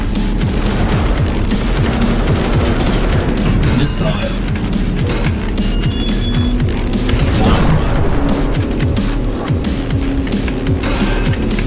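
Cannon and missile weapons fire rapidly in the BallisticNG anti-gravity racing game, dense booming bursts layered over constant loud racing engine noise, with a player talking throughout.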